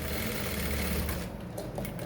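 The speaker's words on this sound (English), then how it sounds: "top stitch from the up, from here, top stitch all through, making sure that every area is properly held" Sewing machine top-stitching around a single welt pocket, a close, steady mechanical whir that eases off slightly partway through, with no voices.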